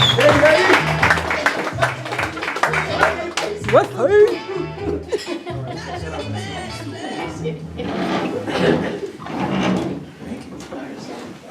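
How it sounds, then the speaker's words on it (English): Audience applause for a speaker at a creative non-fiction reading, dense clapping that swells and continues for several seconds before thinning out, with some voices mixed in. "Please put your hands together for Morgan Campbell"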